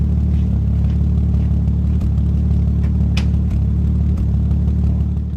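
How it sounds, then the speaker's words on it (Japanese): A Nissan RB25 engine idles steadily and loudly up close, running roughly after a power transistor replacement, with a suspected ignition coil fault and occasional faint uneven stumbles in an otherwise constant drone. "エンジンの音聞いてみてください"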